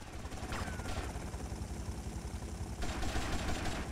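A helicopter in GTA Vice City (Hardlined mod) thrums steadily throughout, mixed with dense game noise that may include gunfire, with no clear speech over it.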